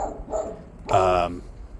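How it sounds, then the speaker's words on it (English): Several dogs barking in a home in the background, a few sharp barks with a longer, louder bark-yip burst partway through, sounding somewhat distant under a quiet room. "Sorry, my dogs are going off."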